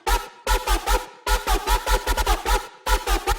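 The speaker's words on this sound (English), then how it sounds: "we'll be creating this dubstep whomp with Mazivuh" A dubstep whomp bass made on the Massive synth, with heavy pulsing wobbles that are loud and close, coming in rhythmic bursts separated by brief gaps, and no talking.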